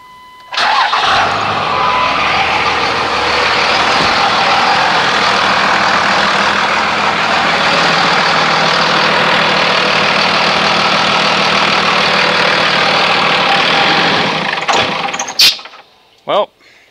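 A Dodge Ram 2500 with a Cummins 5.9-litre turbo diesel, after a fuel filter change and an aftermarket FASS pump fitted: the engine starts and runs loud and steady at close range for about fourteen seconds, then cuts off, with a few knocks afterwards.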